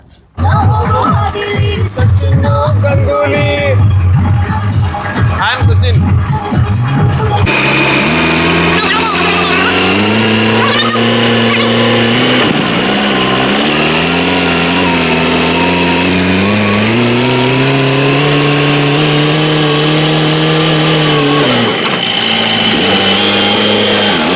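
A tractor engine runs loud and close, opening with a few seconds of rattling clatter before settling into a steady drone whose pitch rises and falls as it revs.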